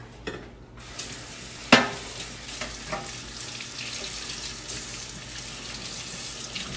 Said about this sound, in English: I will go ahead and clean these here with soap and water.